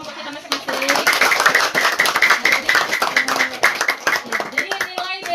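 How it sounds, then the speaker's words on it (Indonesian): A physics class of students claps for their groups, brisk close handclaps with voices chattering and calling out over the clapping throughout. "Mari kita tepuk tangan untuk kelompok kita masing-masing."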